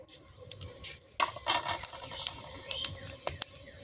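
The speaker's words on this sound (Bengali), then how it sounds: "ফোড়নে দিয়ে দেব সাদা জিরে" White cumin seeds dropped into hot oil left from frying potatoes for a cauliflower-potato curry give a brief crackling sizzle with scattered sharp pops and clicks, fairly close and moderately loud, with no talking.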